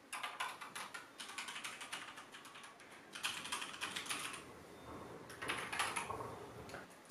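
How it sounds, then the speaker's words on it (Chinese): Keys clatter on Corsair K65 RGB and K100 mechanical keyboards, rapid bursts of crisp clicks and thocks with short pauses between runs, close and fairly quiet. "总体给我的感觉呢，就是 K65 这个按键呢会更清脆一点，然后呢 K100 的话是比较沉稳的那一种"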